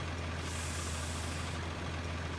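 Engine of an FJ80 Land Cruiser in the Spintires off-road game, a steady low rumble with a hissing upper layer, constant and moderately loud with no talk.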